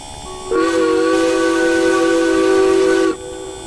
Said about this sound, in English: Let's get on the whistle.